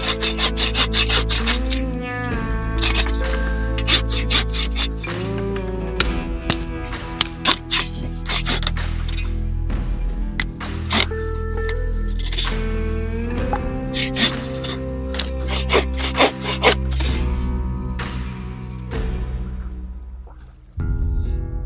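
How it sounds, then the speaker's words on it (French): Boreal 21 hand saw cutting through wood outdoors, a long run of loud, rhythmic rasping push-pull strokes with squeaky tonal scraping, pausing briefly near the end. "c'est ma scie Boreal 21"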